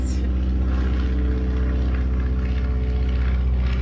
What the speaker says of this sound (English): I'll let this plane pass.